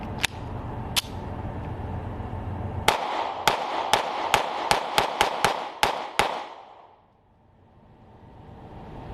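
A Sig Sauer P365 9mm pistol fired at a shooting range: about a dozen sharp, loud shots, first two spaced apart, then a fast irregular string, ending in quiet.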